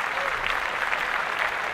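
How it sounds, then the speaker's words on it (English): Brief burst of dense clapping from a small group on a casual podcast, steady and close, filling the whole moment with a busy, even texture. "Clap that up."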